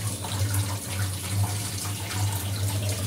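Tap water runs steadily into a sink while salted hilsa fish is rinsed clean, a continuous close splashing stream with no talk.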